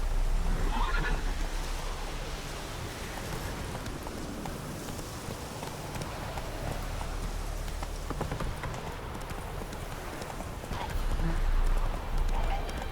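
Roach, the horse in The Witcher 3, gallops at length in a continuous rapid beat of hooves, mixed with a whinny, game ambience and talk, growing louder near the end.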